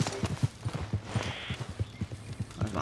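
Horse hooves clip-clop in a video game at a steady trotting rhythm, close and fairly clear, with no talking over them.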